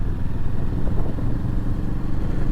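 A 2024 Moto Morini Calibro motorcycle engine hums steadily and loud while riding at low revs in second gear, a continuous close drone with no speech over it.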